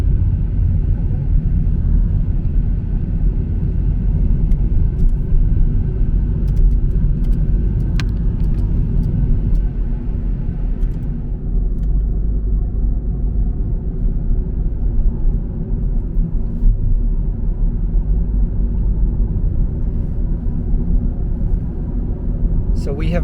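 Inside a car on Highway 26 between Sakai and Osaka, a steady low road rumble and engine drone continue throughout, with occasional faint clicks and no talking.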